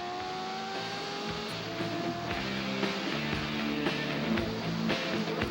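A modern racing motorcycle at a 1997 AHRMA National race at Steamboat runs hard on the track. The engine makes a loud, continuous, buzzing drone, with pitch climbing and shifting through gear changes, and no voices.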